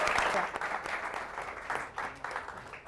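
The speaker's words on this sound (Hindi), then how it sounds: "तालियों के साथ स्वागत होना चाहिए ताऊ जी का" A studio audience applauds to welcome Tau ji onto a special entertainment show stage, a steady burst of clapping that swells and fades across the short stretch with no one speaking.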